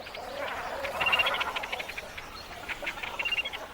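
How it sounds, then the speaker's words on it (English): A cormorant colony nesting in dead trees gives off a faint chorus of croaks and grunts, a busy overlapping murmur heard from a distance. "Thousands of cormorants use dead trees for their nests."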